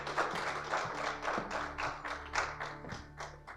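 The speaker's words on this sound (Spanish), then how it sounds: "le damos la bienvenida con un fantástico aplauso" Audience applause welcoming a speaker to a parenting school talk in Spain, made of distinct rhythmic claps and taps at moderate loudness, with no talking.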